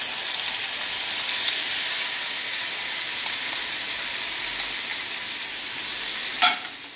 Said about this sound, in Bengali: আমার ভিডিওতে প্রচুর রান্নার আওয়াজ চলে আসছে